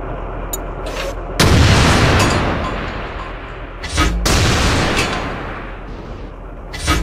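Tank cannons fire in the game World of Tanks, with two heavy booming shots and their long decaying rumbles, plus fainter distant shots in between.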